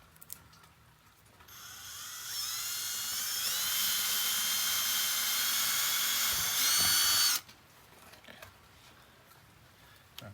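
A small electric drill bores holes into a plastic Walmart ghost trap toy, a steady high whine lasting about five seconds close up, with quiet handling noises before and after.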